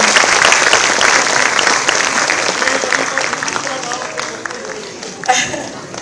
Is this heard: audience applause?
yes